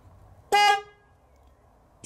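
Car horn sounding during an electrical relay test: one short, bright honk of about a quarter second in near silence, with the start of a second blast at the very end.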